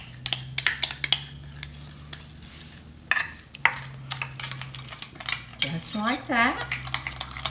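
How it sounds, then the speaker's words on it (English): Ketchup and brown sugar being stirred together in a bowl with a utensil, giving repeated clinks and scrapes against the bowl in short bursts, with a brief spoken remark partway through. "now we've got the ketchup and the brown sugar, and I'm just going to mix that together"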